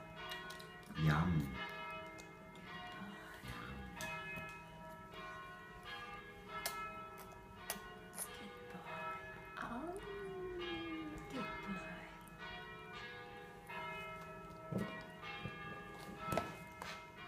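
Bells ring repeatedly, resonant tones sounding at a moderate distance, with a person talking and other faint background noises in between.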